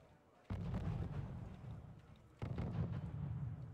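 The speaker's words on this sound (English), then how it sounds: "They got mortars firing on that." Mortar fire in the Wargame Red Dragon strategy game, two deep booming bursts a couple of seconds apart, each sustaining a low rumble, moderately loud.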